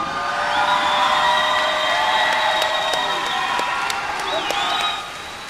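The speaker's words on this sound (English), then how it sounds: "As you can hear, the crowd is just going crazy." A crowd at an MMA championship cheers and applauds loudly and continuously after a fight, with whoops and shouts layered over a sustained roar that drops off near the end.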